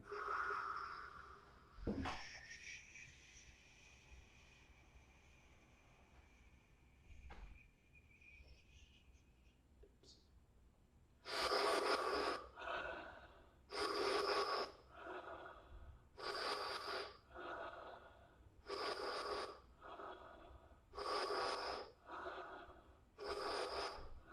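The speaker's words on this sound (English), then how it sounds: "Start with exhaling completely." Rhythmic breathing exercise with repeated strong, forceful breaths in a steady pulse after a quieter opening stretch, close and loud with no talking.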